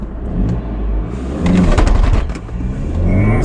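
A Volkswagen Golf GTi or GTD accelerating from 0 to 60, its engine droning loudly and rising in pitch, with a brief lull at a gear change before the revving resumes.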